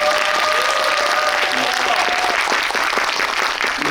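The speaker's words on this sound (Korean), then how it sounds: "박수 부탁드리고 그만할까요?" A packed audience at a Korean film screening Q&A in a Megabox cinema applauds, dense steady clapping that fills the room, loud and close, with a faint voice briefly audible beneath.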